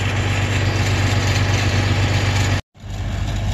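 A cheap feed mixer on a cattle farm runs steadily, blending cattle feed with a loud, continuous engine drone and low rumble. The sound cuts out briefly near the end and then resumes.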